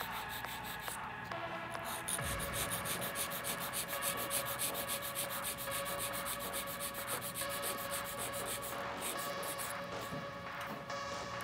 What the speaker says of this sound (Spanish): Voy a limar por toda la parte de arriba, empezando desde el centro hacia abajo, con movimientos en zigzag.